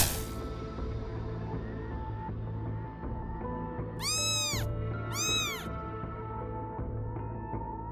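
A kitten lets out two clear, rising-and-falling meows in the middle, close and distinct, over a steady hum of background noise.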